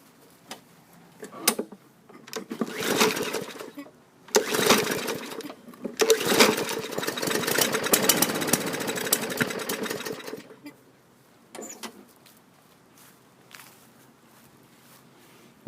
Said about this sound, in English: Maybe you caught that little bit of backfire there before it quit out.